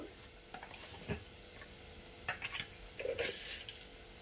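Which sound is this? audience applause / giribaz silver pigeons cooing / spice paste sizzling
spice paste sizzling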